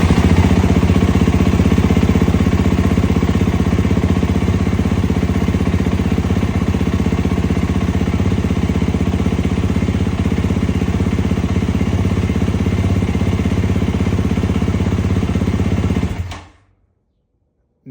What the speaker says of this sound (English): So I'll start the bike again.